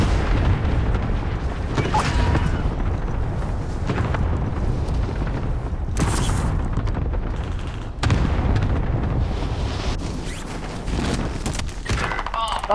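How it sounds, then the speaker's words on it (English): Airstrike explosions in Call of Duty: Modern Warfare: a series of heavy booms and blasts rumble through, with sharp bursts near the sixth and eighth seconds over continuous low battle roar, and voices occasionally audible. "Marked target for airstrike."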